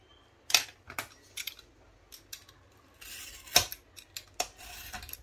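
Scissors snip through material while making a scrapbooking storage piece, several sharp close cuts in irregular bursts with small handling clatter between them, no talking.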